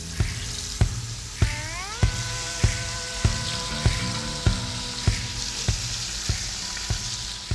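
Meat browning in a pot for jambalaya at a bayou duck camp: a dense, close sizzle running beneath a steady, evenly spaced knocking rhythm.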